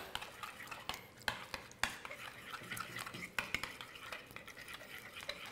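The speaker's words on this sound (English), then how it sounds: "we'll give this a quick stir" A spoon stirs overnight oats in a pot, making a steady run of soft scraping and a few sharper clinks against the side, close and fairly quiet, with no talking.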